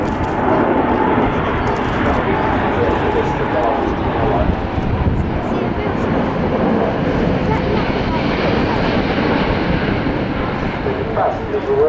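An Airbus A380 flies at the Farnborough Air Show in 2010, heard as a loud, continuous broadband jet roar that holds steady throughout, with a narrator's voice running underneath.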